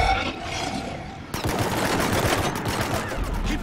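Rapid gunfire from the Mass Effect 3 video game, a dense, sustained burst of shots that thickens sharply partway through and continues loud and close, with no voices over it.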